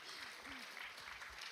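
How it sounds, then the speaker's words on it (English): Audience at a coffee gathering at Judson University clapping, a soft continuous patter of applause under faint voices. "You can clap for Winnie the Pooh."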